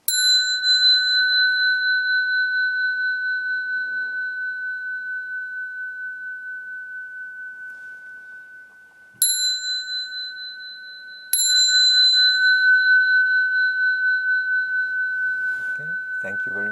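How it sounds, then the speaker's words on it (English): A small bell rings out clearly three times, each clear metallic tone hanging and slowly decaying; close and alone, with a faint voice near the end. "And with the bell, I finish."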